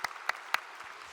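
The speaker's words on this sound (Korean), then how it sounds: "박수 한번 드리겠습니다" An audience at an evening church service gives brief applause, heard as a few distinct claps spaced about a quarter second apart and fading out.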